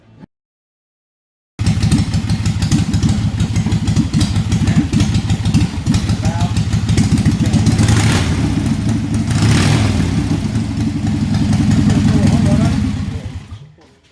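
A 1929 Harley-Davidson motorcycle engine runs at a museum in North Carolina, a loud, close, rumbling beat that holds steady with a couple of swells in revs before cutting off at the end.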